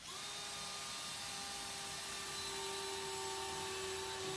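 A power drill bores pilot holes into the wooden framing of a teardrop trailer, a thin, steady high-pitched whine held for several seconds at moderate distance with a quiet background.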